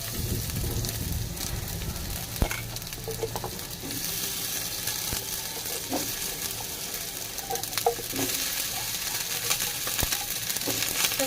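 Cauliflower fries in a pan over a medium flame, a continuous close sizzle broken by scattered crackles and occasional scrapes of a spatula, with no talking.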